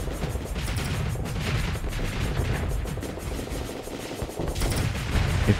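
Rapid, dense weapon fire from Starsector, with continuous overlapping shots and bursts forming a loud, sustained barrage.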